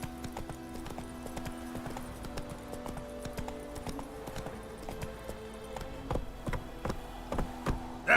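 Hooves of a horse in The Witcher 3 clip-clop in a steady walking rhythm throughout, close and clear over a faint continuous tonal background, with a few sharper hoof strikes near the end.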